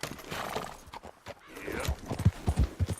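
Horse hooves clip-clopping in Red Dead Redemption 2, a quick run of hollow thuds near the end, with a whinny and a rider's short voice earlier.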